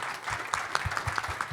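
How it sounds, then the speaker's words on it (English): An audience at a fall summit applauds in a short, moderate burst of clapping that sounds fairly close and steady with a few sharper individual claps. "Another round of applause, please."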